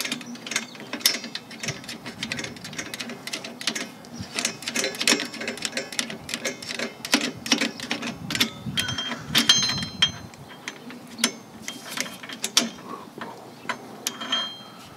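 Screwdriver working the star-wheel adjuster on a Toyota Yaris rear drum brake shoe, giving rapid ratcheting clicks and metallic ticks that run steadily and close by throughout, with no talking.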